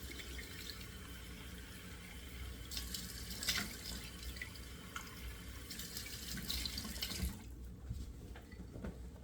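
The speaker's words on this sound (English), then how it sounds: "I'm just going to dip down here and do 2 splashes of cold water" Cold water runs from a tap with a steady hiss, punctuated by a couple of soft splashes up close, no one speaking.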